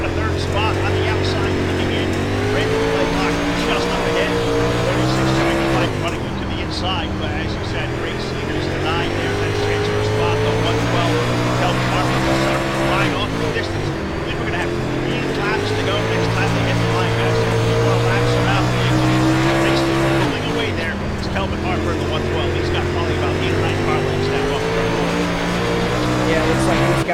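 Race car engines drone steadily in a racing video game at Lanier Speedway, a sustained loud layered roar with shifting pitch as cars run close together, under continuous commentary.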